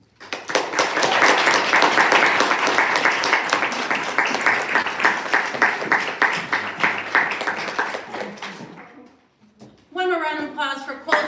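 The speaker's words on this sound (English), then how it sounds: "One more round of applause for Colty and all the folks in the open tonight" A poetry reading audience at an open mic claps loudly for about nine seconds, then the applause fades out and a voice begins speaking.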